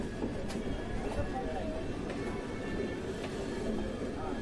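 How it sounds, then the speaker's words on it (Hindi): Trains rolling along side by side in the same direction, one slower and one faster, give a steady wash of rail rumble with faint clicks of the wagons. A voice talks over the noise. "मेरी वाली ट्रेन अभी थोड़ी स्लो है और वो वाली ट्रेन अभी थोड़ा सा फास्ट है"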